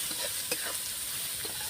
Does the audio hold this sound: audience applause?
no